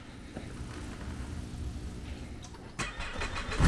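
A Ski-Doo Expedition snowmobile engine cranks with a low, rough rumble, then catches and fires up louder near the end, heard close and alone.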